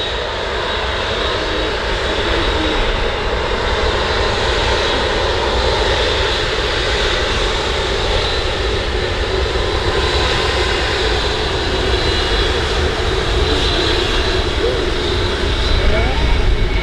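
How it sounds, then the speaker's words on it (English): A Ryanair jet airliner passes at Manchester Airport in wet weather, its engine roar a steady, loud broadband wash that holds for the whole stretch and swells slightly near the end. "And in the background, see a Ryanair going."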